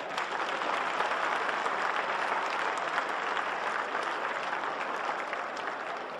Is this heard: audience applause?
yes